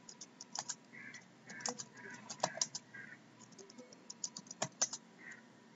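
Someone types an SQL SELECT query on a computer keyboard, a quiet, close run of uneven clicks that come in bursts. A faint voice can be heard under the keys.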